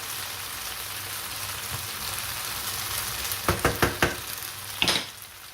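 Potatoes sizzle steadily in a pan for a pizza made without dough, a soft frying hiss with a few sharp clicks and scrapes near the end as they are turned. No one speaks.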